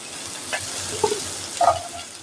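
Beans drop into vegetables frying in white oil, setting off a steady sizzle with a couple of soft thumps and a brief clatter as they go in.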